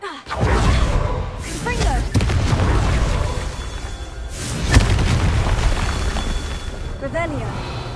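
A Confringo explosion spell in Hogwarts Legacy goes off with deep booming blasts, mixed with game effects and loud spoken spell incantations.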